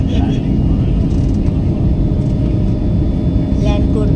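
Airliner cabin rumble during final descent into Bagdogra airport under cloudy skies, a steady, loud low roar filling the whole clip with a faint voice beneath.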